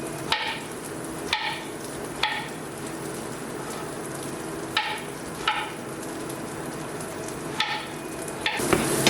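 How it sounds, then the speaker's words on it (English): Rice stir fry crackles and sizzles in a pan with a steady hiss, broken every second or so by sharp scraping stirs and clinks of the utensil, close and fairly loud, no voices. "I'm making a rice stir fry."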